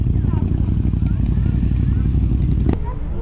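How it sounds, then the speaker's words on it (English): Motorcycles pulling away from a classic car show at the Chiltern Hills Rally, engines running steadily beneath a busy crowd babble, with a brief sharp burst near the end. "Let's get the bikes as they leave"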